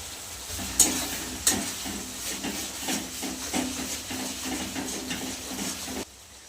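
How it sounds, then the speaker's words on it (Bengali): Spices and tomato fry in a pan for chicken curry, a steady close sizzle and hiss with regular scraping stirs and a couple of sharp utensil knocks, ending abruptly. "মশলা কিন্তু ভালো করে কষিয়ে নিচ্ছে"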